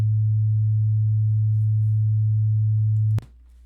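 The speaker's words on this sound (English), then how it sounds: "108 hertz, which happens to be A2, if that's interesting to you" A pure 108 Hz sine tone, the musical note A2, holds steady and loud for about three seconds and then cuts off abruptly with a brief click.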